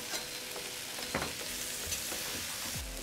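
Vegetables for ratatouille fry in a pan with a faint, steady sizzle, broken by a few soft stirring scrapes and clinks of a utensil.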